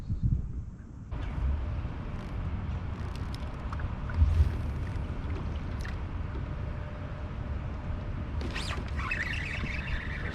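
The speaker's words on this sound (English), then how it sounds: "oh, there comes a boat." A boat engine drones steadily across a river, a low rumbling hum that swells slightly as it goes by, with faint wind in the background.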